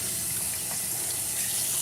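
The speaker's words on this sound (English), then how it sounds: "I'm just kind of rinsing." Dishes are rinsed under a running kitchen faucet, a steady close rush of water that holds without a break.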